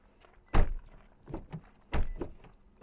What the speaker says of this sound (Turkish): kapı seslerimiz bu şekilde demiştik